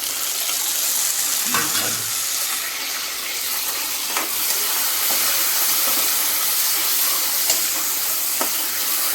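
Onions sizzle and crackle steadily in hot oil, with a few soft stirring clinks; no one speaks.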